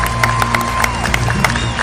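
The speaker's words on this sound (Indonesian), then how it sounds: "Mari kita sambut dengan tepuk tangan." A studio audience claps and cheers to welcome guests on a quiz show, a short burst of dense, steady applause with rhythmic claps close by and loud throughout.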